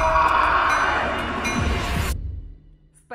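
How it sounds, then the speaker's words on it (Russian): A passenger train departs with a loud rumbling roar that fades and then cuts off abruptly, leaving near silence at the end. "Наш поезд отправляется."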